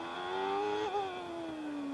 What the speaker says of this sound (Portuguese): Vai curtindo o som do motor da Benetton.